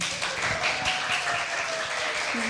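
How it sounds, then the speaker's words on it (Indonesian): Applause from an audience at a high school event in Jakarta, a steady dense wash of clapping across the whole stretch with faint voices mixed in. "Kasih tepuk tangan dulu dong."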